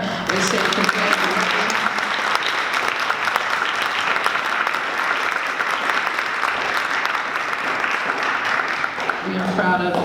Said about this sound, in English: So we just want to clap it up for her and say congratulations